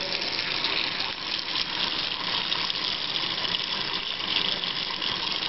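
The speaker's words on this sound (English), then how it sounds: "put the coffee filter in the funnel, and then you just kind of pour it in" Water is poured through a coffee filter set in a funnel into a jar, a steady, close hiss of running, splashing liquid that holds at an even level throughout.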